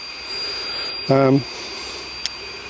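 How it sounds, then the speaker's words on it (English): A small electric air pump switched on briefly, a short loud droning buzz lasting under half a second, set against quiet outdoor background at a wet tarp camp in the New Forest. "I prefer using a little pump"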